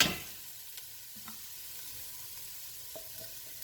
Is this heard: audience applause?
no